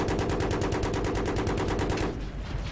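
Rapid automatic gunfire from Battlefield 3 rattles in a fast, even burst for about two seconds, loud and close, then cuts off into a short tail of residual noise.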